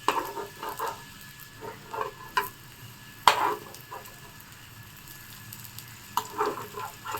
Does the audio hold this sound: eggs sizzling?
yes